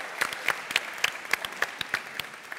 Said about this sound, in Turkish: şu Abdullah Avcı Hoca'ya da bir büyük alkış alalım